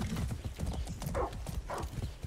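Horse hooves clip-clop steadily in the Far Cry 6 video game, a close, even rhythm of hoofbeats with a brief whinny partway through and faint game ambience underneath.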